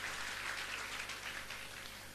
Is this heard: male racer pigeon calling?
no